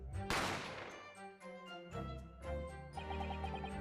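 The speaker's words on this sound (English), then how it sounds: "You heard the gunshot, you mean?" A single sharp gunshot effect from The Great Ace Attorney bursts out early, followed by chiming game music notes that continue quietly.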